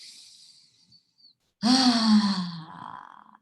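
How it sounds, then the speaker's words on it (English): One deep breath during a breathing exercise: a faint airy hiss, a pause, then a loud sighing exhale with a voiced, groaning tone that trails off, close and alone. "taking 3 deep breaths"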